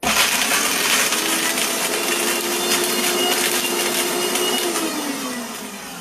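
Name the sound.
blender blending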